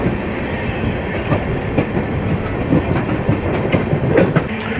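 Pamban Express train running over the new Pamban bridge, a loud continuous rumble of wheels with rhythmic clickety-clack beats close by.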